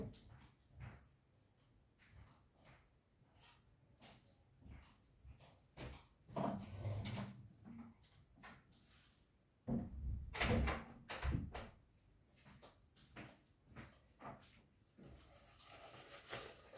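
A door being closed in a house, with several dull knocks and bangs, the loudest near the middle and at about ten seconds, against quiet room noise.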